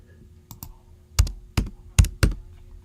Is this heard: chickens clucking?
no